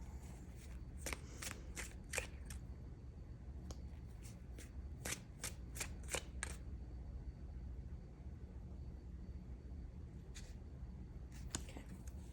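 Tarot cards shuffled close by in a quiet room, a series of quick crisp riffling bursts in an irregular rhythm, pausing midway and then resuming briefly, over a faint low hum.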